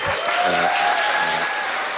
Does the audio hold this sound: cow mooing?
no